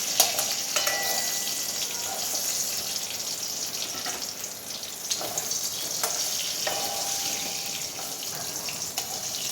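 Egg curry is stirred with salt in a sizzling pan, giving a steady frying hiss with intermittent scraping and stirring clatter, close and continuous throughout.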